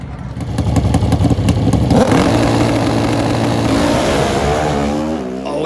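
A pro stock drag racing motorcycle engine roars up close and loud, the pitch climbing as it accelerates and then sliding down again, with a rattling, mechanical edge to the exhaust note.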